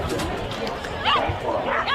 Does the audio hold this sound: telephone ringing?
no